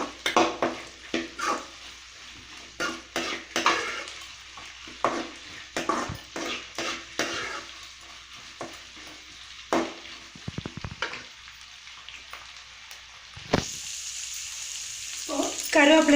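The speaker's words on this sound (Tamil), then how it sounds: "வெங்காயம் நல்லா வதங்கட்டும்" Onions sauté in a pan for poori masala, sizzling steadily while a spoon clanks and scrapes against the metal in repeated bursts. Near the end the hiss turns brighter and more even.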